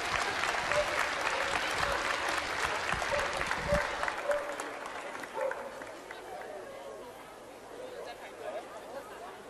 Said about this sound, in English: Will you please put your hands together for all of these winning puppies in the Hound group?